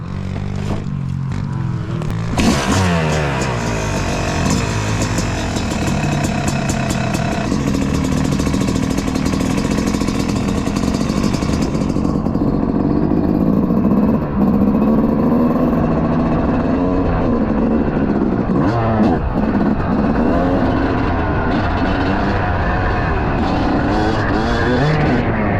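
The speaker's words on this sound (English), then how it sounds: "Taking the old YZ out for a rip." A Yamaha YZ dirt bike engine rips loud and close for a sustained stretch, its pitch climbing and falling as the rider twists the throttle, with no talking.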